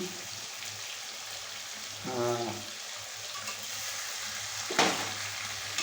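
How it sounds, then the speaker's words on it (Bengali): Meat browning in a pan for a Bengali kosha, a steady soft sizzle with a faint watery hiss throughout, an occasional scrape of stirring rising briefly above it, quiet and close. "বন্ধুরা দেখুন মাংসটা কষাচ্ছি"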